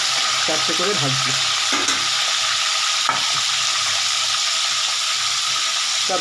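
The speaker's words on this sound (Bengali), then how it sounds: "এইভাবে মাছটা ভাজতে থাকি" Pieces of rohu fish fry in a pan four at a time, giving a steady, close, loud sizzle with a few soft scrapes and stirring clinks throughout.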